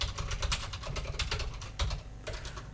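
Steady typing on a computer keyboard, a continuous run of quick close clicks with brief pauses in between and no voices over it.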